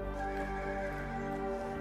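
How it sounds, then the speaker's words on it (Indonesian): A horse neighs in a drawn-out, tonal whinny with a dense bed of film score or effects beneath it, in a battle scene from a Planet of the Apes film, loud and close. "Caesar kemudian pergi dengan menunggangi kuda"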